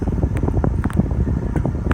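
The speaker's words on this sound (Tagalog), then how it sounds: "So ito-testing natin yung hangin niya para makita nyo kung gano'n siya kalakas." A Jisulife handheld folding mini fan running close to the microphone, a steady buffeting whoosh of air with fluttering gusts and small clicks throughout.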